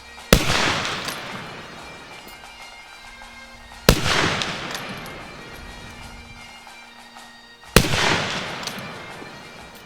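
An ICI Martini-Henry cavalry carbine fires black powder loads of 65 grains of 2F: three loud, sharp shots spaced evenly a few seconds apart, each with a long, booming decay.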